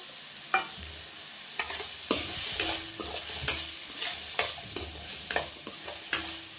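Broccoli, carrots and other vegetables stir-fried in a pan, with a steady sizzle, irregular scraping stir strokes and sharp utensil clinks against the pan, close and alone.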